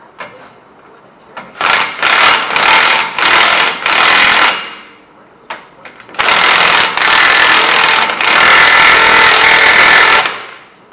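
Impact wrench hammering a CV shaft axle nut onto a Taurus hub, loud and close, firing in several short rattling bursts then one long sustained run.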